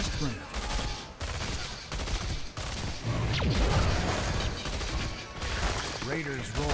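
Raynor fires rapidly in the video game Heroes of the Storm, a continuous fusillade of quick gunshots mixed with game effects, loud and close, with brief gaps.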